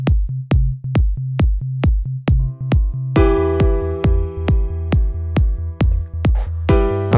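A deep synth bass moves through chord root notes over a steady four-on-the-floor kick drum in a produced track, and a bright chordal layer enters partway through.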